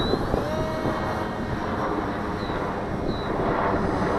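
A Komet RC model airplane flies slowly in gusty wind, its engine a steady hum beneath constant wind rumble buffeting the microphone.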